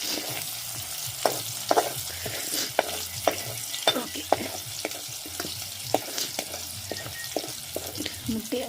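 Food sizzles steadily in a frying pan while a utensil stirs and scrapes it in sharp, repeated knocks, close and loud, with no talk.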